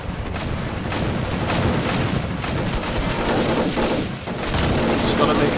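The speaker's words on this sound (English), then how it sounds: "Oh, there's bullets flying everywhere" Toy-soldier battle between green and red army men, with dense gunfire and booms rattling continuously throughout, loud and close, with a voice talking faintly underneath.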